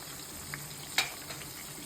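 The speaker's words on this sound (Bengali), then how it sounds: "আমরা আস্তে আস্তেই ভাজতেছি।" Flour-coated chicken frying slowly in oil makes a faint, steady hiss with a couple of small crackling pops.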